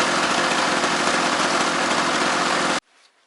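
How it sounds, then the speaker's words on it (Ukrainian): A petrol generator rated for 400 volts runs steadily as its engine warms up, a loud continuous buzzing drone heard close by that cuts off abruptly near the end, leaving faint background noise. "Генератор попрацював трішки, е, прогрівся двигун."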